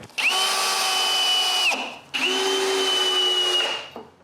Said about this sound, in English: Now I can screw the base to the corner posts.